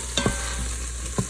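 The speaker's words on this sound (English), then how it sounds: "I think you can now keep stirring." A spoon stirs pav bhaji in an Instant Pot over a steady low sizzle, giving a few soft scraping strokes against the pot, close and fairly quiet.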